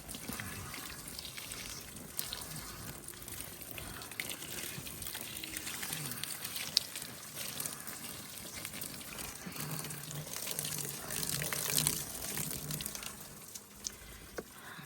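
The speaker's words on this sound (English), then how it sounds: "so as you can see, I poured the water on the ice" Water poured from a container onto ice on a front porch in winter, a steady broadband splashing and trickling that runs continuously for the whole stretch, fairly close and moderate in level, with no talking.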